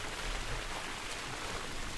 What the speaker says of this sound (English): it is either still raining or it has stopped raining momentarily and is now raining again